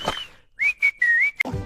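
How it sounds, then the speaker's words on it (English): A person whistles a short tune of a few sustained notes, clear and close, with brief breathy sounds on either side. "I am whistling."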